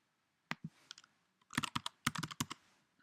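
A password typed on a computer keyboard: a few isolated key taps, then a quick burst of clustered clicks, close and crisp in a quiet room.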